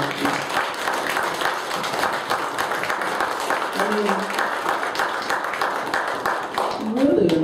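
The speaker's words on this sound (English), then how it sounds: "Can we give another round of applause to our brilliant ladies?" Sustained applause from an audience at a high school young writers' reading, dense steady clapping that fills the room throughout, with a few voices rising through it near the end.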